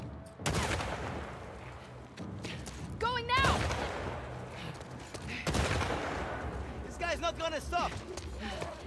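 Pistol shots fire in The Last of Us Part II: sharp, loud single cracks come at irregular intervals against game ambience, with brief game voices and a player talking over them.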